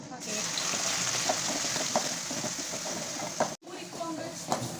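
Small onions frying in oil for a Tamil fish kulambu give a steady, close hiss of sizzling with faint stirring clicks, broken by a brief drop near the end.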